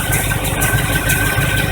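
A 1985 Chevy truck's carbureted engine runs steadily after a fuel pump change, a close, loud, even idle with a constant rumble and a faint high whine over the top.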